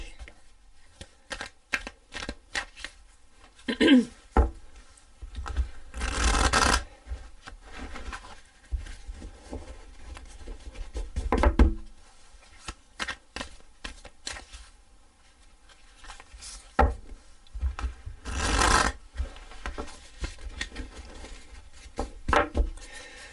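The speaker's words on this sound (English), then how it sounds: "I'm shuffling the cards today, allowing them to fall out" Rider-Waite Radiant tarot cards being shuffled by hand in repeated riffling bursts of papery slaps and flutters, some louder and closer, with quieter rubbing between them and no talking.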